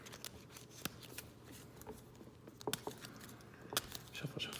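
Playing cards being shuffled at a tabletop game session, a steady papery riffle and patter with sharp flicks and snaps, close and fairly quiet with no talk.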